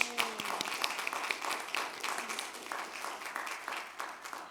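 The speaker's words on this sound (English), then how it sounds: "Let's give him a round of applause." Audience applause for chef and TV personality Andrew Zimmern at a seafood industry event: a steady, moderately loud wash of many hands clapping that holds for several seconds without a break.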